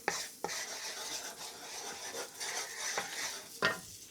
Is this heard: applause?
no